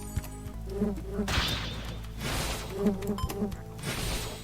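Bees buzz around a large beehive in a pickaxe adventure video game, a steady insect drone with brief louder swells, heard alone without talk.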